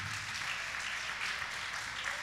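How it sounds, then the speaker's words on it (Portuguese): A church congregation applauds during a sermon, a steady wash of many hands clapping at a fairly distant, soft level, continuous for the whole stretch without speech. "Vamos aplaudir o Senhor,"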